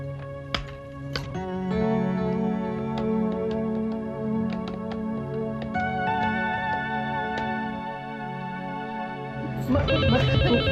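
A telephone rings during a phone call in a Hindi family drama scene, its ringtone sounding steadily over background music for about ten seconds, with a brief voice near the start.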